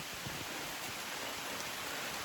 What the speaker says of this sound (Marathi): पाऊस परत सुरू झाला आहे